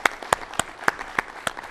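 A few sharp, spaced claps ring out in a television studio as an audience welcomes a guest, sparse and distinct rather than a full ovation, with no talking.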